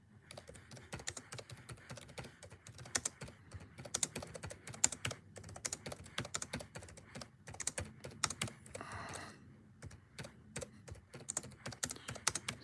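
Steady, quiet typing on a computer keyboard, with many close, irregular key clicks in a continuous run and no voices.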